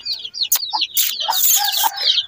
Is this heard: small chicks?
yes